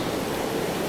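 Ocean waves crashing against a shore, a steady, dense roar of surf that stays loud and continuous throughout with no other sounds.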